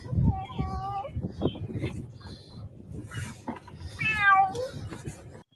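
Cat meowing nearby with a couple of distinct, drawn-out meows, one near the start and a louder rising one later, among faint background talk and rustling.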